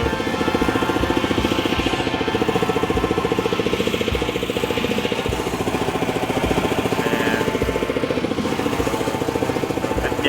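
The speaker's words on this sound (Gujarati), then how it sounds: "આ છે કમ્પ્રેસર," An air compressor mounted on the back of a tractor for well digging runs with a loud, steady, rapidly pulsing mechanical drone, close by and unbroken, with no talking.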